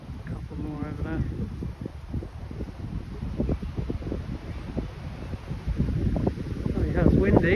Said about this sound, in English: Oh yeah, it's windy.